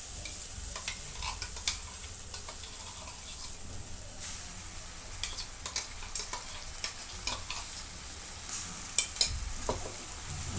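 Ginger, garlic, coconut and coriander paste frying in a pan over browned onion, a soft steady sizzle broken by irregular scraping stirs of a spoon, close and fairly quiet.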